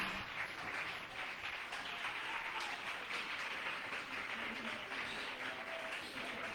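Worshippers in a church service applaud together, a steady wash of clapping that stays fairly quiet and even throughout, with no voices standing out above it.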